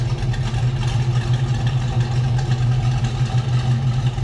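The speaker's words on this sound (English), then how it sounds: "by listening to that V8, it sounds good. Again, Pontiac 350 underneath the hood" A Pontiac 350 V8 idles steadily in a 1968 Pontiac Firebird convertible, a loud, close, even low rumble that holds the same note throughout with no talking.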